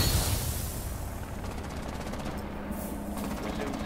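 Rapid automatic gunfire in Rainbow Six Siege, rattling steadily and fairly loud as bullets shoot out barbed wire, with a continuous game soundscape underneath.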